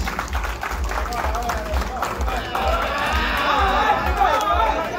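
Applause at a family gathering, clapping mixed with crowd chatter and a low rhythmic thump in the background, building slightly in the second half.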